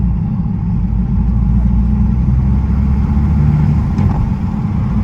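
A big single-turbo Toyota Supra cruising in comfort mode gives a steady, close, low engine drone with road rumble that holds even throughout, without sharp revs or pops.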